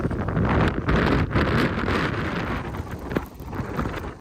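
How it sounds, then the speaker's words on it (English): Steady, rushing wind buffets the microphone throughout, a broad blustery roar with gusty swells and no voices. "You could probably hear outside, it's windy as hell."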